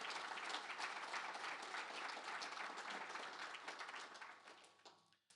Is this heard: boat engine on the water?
no